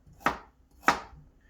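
Two crisp knife chops cut through carrots on a cutting board, spaced about half a second apart, close and distinct against a quiet kitchen.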